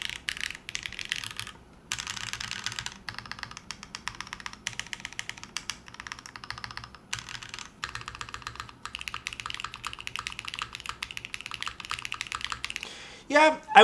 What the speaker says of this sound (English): I don't like this side of the keyboard in the gasket config. This sounds really hollow to me.